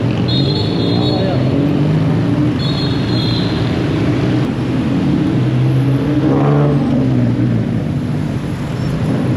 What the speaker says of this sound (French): Je crois que c'est les véhicules à Bangkok qui font le plus de bruit.